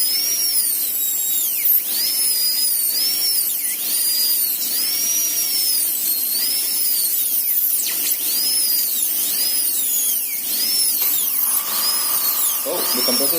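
A high-pitched dental drill cuts an access cavity into a tooth during a root canal procedure, its whine repeatedly rising and falling in short bursts, close and fairly loud over a low background hum.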